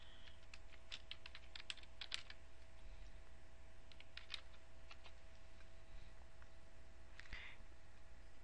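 A search term is typed on a computer keyboard in scattered quiet clusters of close key clicks over a faint steady hum, with no talking.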